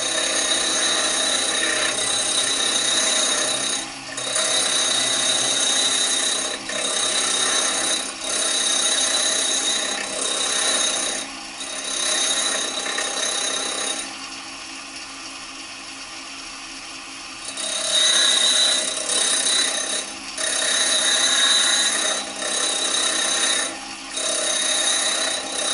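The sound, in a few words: bench grinder white stone wheel being dressed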